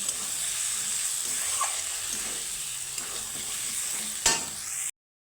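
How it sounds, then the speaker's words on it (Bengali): Katla fish with spice masala being stir-fried in a pan, a close, steady hiss of sizzling oil throughout with faint stirring, ending in one sharp scrape just before the sound cuts off. "দু মিনিটের মতো কষিয়ে নেব তো দু মিনিট কষিয়ে আমি সামান্য জল অ্যাড করে দিব"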